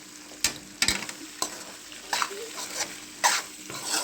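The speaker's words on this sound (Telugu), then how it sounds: "తర్వాత మనము పాస్తా వేసుకోవాలి. కలుపుకోవాలి." Pasta being stirred in a pan during home cooking, producing a series of irregular scraping and clattering bursts with soft sizzling and wet shuffling between them, close and moderately loud.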